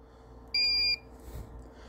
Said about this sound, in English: Your machine will beep.